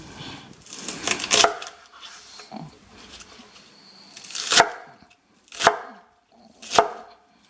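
A knife chops through green onion on a cutting board for chicken fried rice: a quick cluster of close, loud chops, then three separate, well-spaced single cuts, with no voices.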